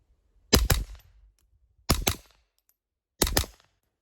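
A suppressed .22 LR Ruger rimfire rifle fires three quick control pairs outdoors, each a pair of sharp, muffled cracks a split second apart, the pairs spaced about a second and a half apart in otherwise quiet surroundings.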